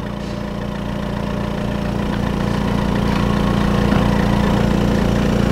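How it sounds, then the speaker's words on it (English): BioTek ELx405 Select CW microplate washer aspirating liquid during its wash cycle, a steady mechanical hum and pump drone holding at an even level, rising slightly, with no talk. "can hear it doing the aspiration"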